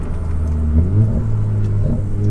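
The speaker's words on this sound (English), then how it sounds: "We get a little bit of the exhaust going over this bridge." Exhaust of a 600 WHP wide-body Toyota Supra, a loud, steady low drone that swells twice as the car crosses a bridge, heard from inside the cabin with no talking.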